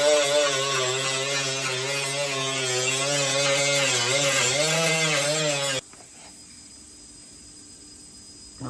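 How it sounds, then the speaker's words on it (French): Grinding a metal part during a Polo 5 door handle fit on a Golf 4: a loud, sustained, buzzing tool tone with wavering pitch that cuts off abruptly, leaving faint background noise. "Donc là, on a tout limé."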